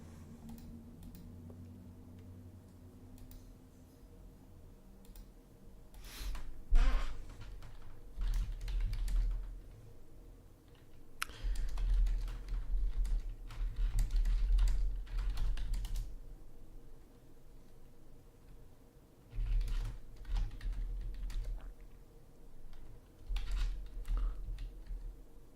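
Someone types on a computer keyboard in quick, uneven bursts of close, soft key clicks, stopping and restarting over a low background hum, with no talking.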